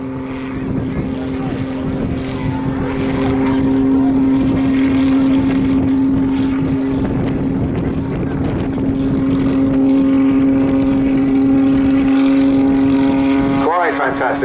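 A Pitts Special muscle biplane performing at the Southport Airshow 2022 fills the air with a loud, steady engine and propeller drone that holds for the whole stretch, then swells and shifts in pitch near the end as it passes.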